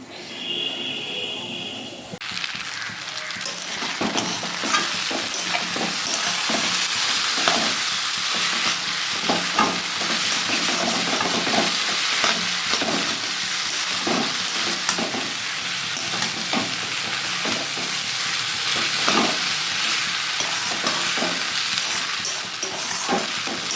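Chow mein stir-fried in a pan, a loud steady sizzle broken by a continuous series of rhythmic stirring scrapes and clatters, with no voices.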